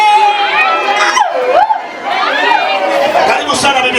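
An excited wedding crowd outside celebrates the bride's arrival at a church in Mombasa, with loud overlapping chatter, shouts and cheering, high ululating cries rising and falling through the din.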